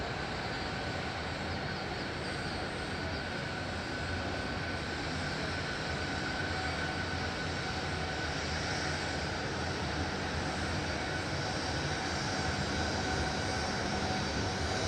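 A fixed-wing airliner overshooting on a go-around at Madeira airport, a steady distant engine roar holding at an even level for the whole stretch, with no voices over it.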